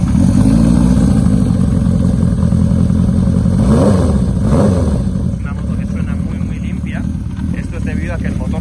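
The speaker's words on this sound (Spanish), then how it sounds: "Una moto que suena muy bien, cuatro cilindros, sonido progresivo, ya lo veis." A Honda CB 400 Four cafe racer's four-cylinder engine idles and revs steadily throughout, with a smooth, continuous mid-range drone, a brief rise in revs partway through.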